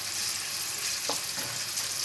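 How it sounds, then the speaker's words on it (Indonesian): Shrimp seasoned with pepper and salt frying in a generous amount of oil, giving a loud, steady sizzle throughout with a brief stirring scrape midway. "Kita goreng udangnya."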